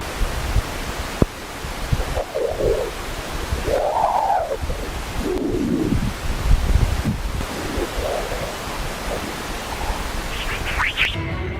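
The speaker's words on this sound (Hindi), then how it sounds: "अभी जो आपने चहचहाट की ऑडियो सुनी, वो सोलर विंड से निकलने वाली एक खास डिस्पर्सिव वेव्स की निकलने वाली आवाज है" Chirping sonified audio of dispersive waves from the solar wind: soft rising and falling whistles and sweeps drift through a dense, hissing wash of broadband noise, steady and fairly loud, with no voices.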